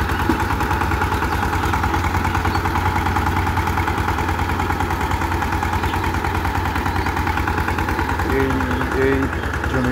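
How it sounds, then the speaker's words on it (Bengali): An ACI power tiller with a plough straining through a grassy riverside field, its engine a steady, loud, throbbing drone that runs unbroken throughout. "ইঞ্জিনে প্রচুর প্রচুর পরিমাণে প্রেসার পড়ে।"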